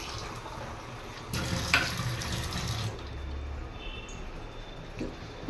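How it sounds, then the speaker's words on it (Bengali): Water poured from a vessel into a pan of sautéed potatoes and winter greens over high heat, a loud rushing splash lasting a couple of seconds, then a quieter bubbling simmer. "জল দিলাম"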